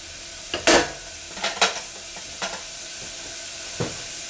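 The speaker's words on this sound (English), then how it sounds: "just going to sweat the onion" A soft steady sizzle of onion sweating over medium heat in a pan with a few scraping stirs of a utensil, close by and otherwise quiet.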